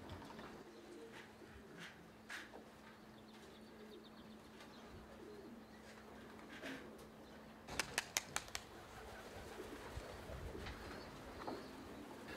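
Racing pigeons coo softly and intermittently at a pigeon loft, fairly faint and distant, with scattered short sharp clicks and taps around them and no talking.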